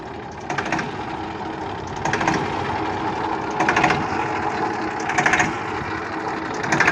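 A Massey Ferguson 1035 DI tractor, a 35 hp 2003 model, idles with a steady diesel chug. Its rhythm is even, with a slight rise and fall about every one and a half seconds. The engine sounds near and moderately loud, with no talk.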